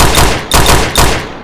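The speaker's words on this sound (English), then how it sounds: "you unload a bunch of gunshots into him" Three loud gunshot blasts from a video game, evenly spaced about half a second apart, each with a sharp attack and a short ringing decay.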